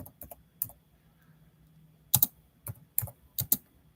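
Computer keyboard keys clack in scattered bursts, a few isolated taps and then quick clusters, close and crisp against a quiet room.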